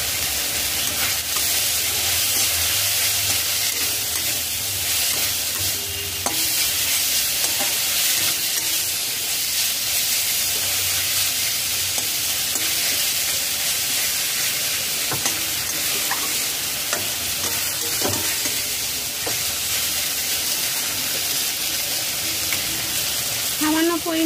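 Chicken pizza topping with turmeric, chili, cumin and coriander powder sizzles steadily in a pan over a low-to-medium flame, a constant close hiss with occasional scrapes and knocks of stirring throughout.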